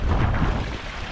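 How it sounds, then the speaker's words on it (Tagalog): Strong wind buffets the microphone on a small fishing boat at sea, a loud, steady broadband roar with no voices, filling the short moment. "Ang lakas talaga ng hangin."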